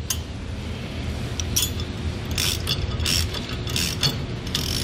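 A socket wrench ratchets as bolts are tightened on a hitch extension bracket of a 2021 Ford F-450, with rapid, close clicking bursts over a steady background noise.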